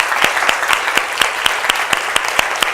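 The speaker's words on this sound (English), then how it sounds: "Give your guys a round of applause." Steady audience applause at a beauty business summit keynote, a dense wash of many hands with a few sharper claps standing out, fairly loud and close, with no voices over it.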